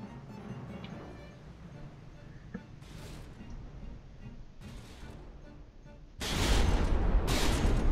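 Naval weapons fire in the game From the Depths as the ship Scimitar shoots at the Tempest in a tournament battle: a low rumbling background broken by sharp bursts of gunfire, ending in a loud sustained barrage.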